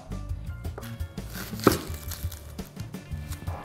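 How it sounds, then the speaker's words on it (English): Peeled onions are roughly chopped on a board for stuffing a wild pheasant, a series of irregular knife taps, close and fairly soft, with one sharper louder hit partway through. "Now I'm roughly chopping them just to put inside the cavity of the pheasant."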